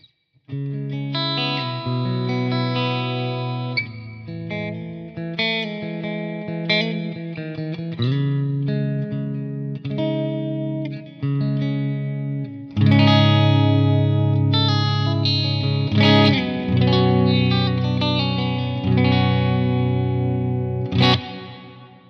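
Electric guitar on the middle pickup position played through a Line 6 Helix processor, sustained chords with chorus and reverb, a loud, full, continuous tone with a thicker, louder passage midway and no talking.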